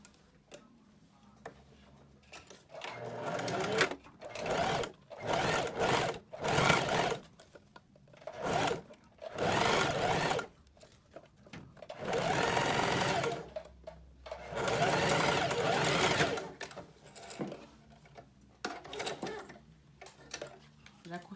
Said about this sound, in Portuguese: Já costurei um lado, agora vou costurar o outro.